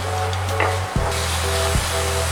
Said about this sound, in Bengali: মশলা কষাতে থাকবো যতক্ষণ না মশলা থেকে তেল বের হচ্ছে।